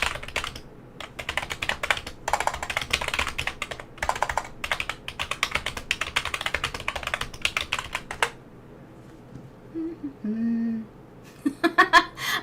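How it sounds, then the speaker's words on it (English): Loud, fast typing on a computer keyboard clatters in dense bursts of hard keystrokes, pauses briefly while someone makes soft vocal sounds, then resumes with a few sharp strikes. "I have to make sure that everybody can hear that I'm typing"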